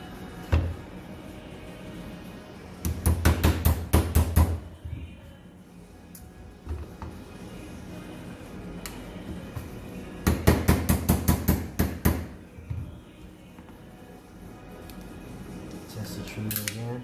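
A pin is tapped back into a MAC 9DS pistol, heard as two clusters of quick sharp metallic taps, five or six strikes each, against quiet room noise.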